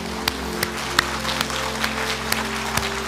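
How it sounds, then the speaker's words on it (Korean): A church congregation applauds and cheers during a Sunday service, giving a steady wash of clapping with sharper claps standing out at intervals over a low hum. "뜨겁게 박수와 함성으로"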